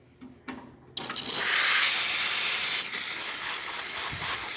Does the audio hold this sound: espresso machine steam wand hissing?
yes